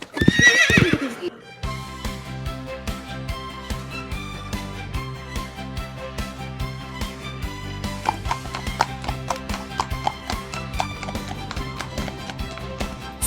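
A cartoon horse whinnies briefly and loudly at the start, and then light hoof clip-clops tap along under a busy, bright musical score.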